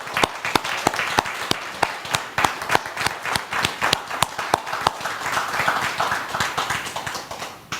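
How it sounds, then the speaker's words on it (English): Audience applause at a church conference day session, sustained clapping from the crowd with sharp, evenly spaced individual claps standing out above the dense patter, steady and fairly close throughout. "Let's give Joy another round of applause."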